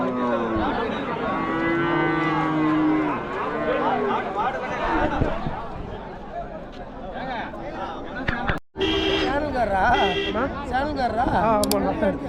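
Cattle moo and low repeatedly amid a busy crowd of chattering voices, with nearby talk throughout a noisy outdoor cattle market at Kokkarapatti, Harur, Dharmapuri.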